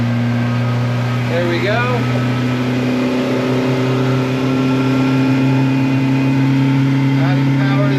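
A Yamaha 115HP outboard on a 2006 Duckworth Advantage 18 boat, trimmed all the way down, drones steadily and loud as throttle is added, a sustained engine hum building under brief speech.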